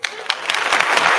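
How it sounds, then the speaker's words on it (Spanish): A studio audience on a Spanish-language discussion show breaks into a short, loud burst of applause to welcome a guest. "darle la bienvenida con un fuerte aplauso."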